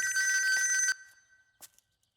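A telephone bell rings loudly in a rapid trilling burst for about a second, then cuts off, leaving faint trailing clicks and near silence.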